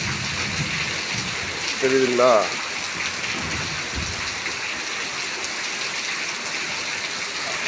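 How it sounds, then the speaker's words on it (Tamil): Heavy rain pours down steadily in Tiruppur, a constant broadband wash under a voice speaking briefly near the middle. "பாருங்க மழை அடிச்சு ஊற்றுது பாருங்க,"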